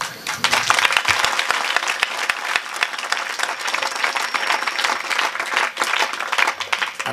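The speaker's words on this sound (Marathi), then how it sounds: "राजांचं नाव घेतलं तरी टाळी जरा जोरात वाजवा." An audience at a kirtan, a devotional religious gathering, bursts into loud, sustained applause, dense crowd clapping rolling on steadily throughout, with no speech over it.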